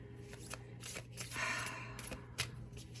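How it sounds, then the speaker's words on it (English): Matte-finish tarot cards being shuffled by hand, a steady close riffle of rustling and flicking card edges with small bursts and pauses, alone without talk. "these are so difficult to shuffle"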